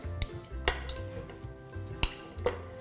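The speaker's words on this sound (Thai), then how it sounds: "ตัวเนยค่ะใส่ลงไปในชามผสม" Cold butter pieces dropped into a mixing bowl while making a sea salt caramel lava brownie, heard as several sharp clinks and knocks against the bowl spread over a few seconds, close and fairly quiet.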